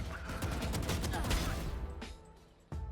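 Rapid gunfire in a tactical shooter video game: a dense burst of repeated shots fills the first two seconds, then tapers off into a couple of sharper isolated cracks.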